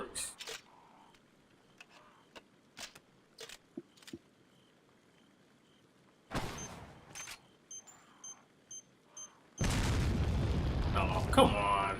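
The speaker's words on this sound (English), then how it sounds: "RPG is not on a timer, so it explodes on impact" An RPG rocket in Resident Evil 4 bursts on impact with a sudden loud roaring blast and sustained rumble, after a stretch of scattered clicks and short bursts of noise.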